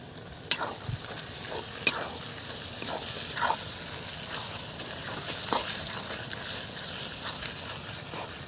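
Garlic paste fries with onions in a pan, a soft steady sizzle broken by repeated close scraping and tapping of a spatula as it is stirred.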